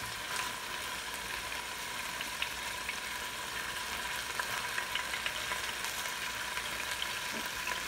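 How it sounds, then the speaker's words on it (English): Steady, close sizzling and crackling of pot roast meat browning in hot oil in an electric pressure cooker, with occasional sharp pops and no talking. "Can you hear the sizzling?"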